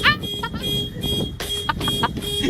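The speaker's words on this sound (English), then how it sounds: "I can't tell y'all how many car alarms go off in this neighborhood" A car alarm sounds in a residential neighborhood, its repeating electronic tones cycling in bursts against steady background noise.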